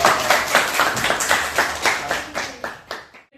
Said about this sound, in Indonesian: tepuk tangan untuk fosfor